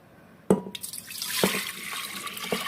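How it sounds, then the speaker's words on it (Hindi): Dry rice grains poured into a metal pressure cooker, starting with a sharp rattling impact and continuing as a steady hissing patter with a few more clattering bursts, close up and moderately loud. "तो एक कुकर में हम चावल डाल लेंगे"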